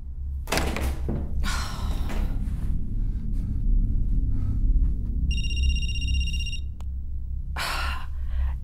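Banging on a wall in the video game Night Book: several dull thuds and thumps over a low rumbling ambience, with a short tonal beep partway through.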